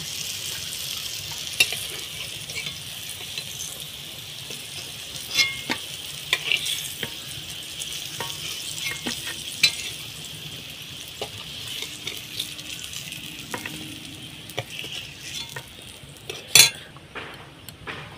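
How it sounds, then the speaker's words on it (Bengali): Slices of pointed gourd (potol) fry in a pan after pumpkin fritters, giving a gentle, continuous sizzle with occasional spatula taps and clinks, fairly quiet and without voices. "পটলগুলো ভেজে নেব।"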